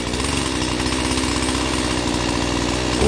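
A Husqvarna 120 Mark II chainsaw runs close by with a loud, buzzing two-stroke snarl held steady for about three seconds, rising slightly at the end.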